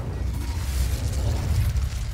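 A steady low rumbling roar and crackle from an Incendio fire spell erupting in Hogwarts Legacy, sustained and fairly loud for about two seconds with a faint hiss above it.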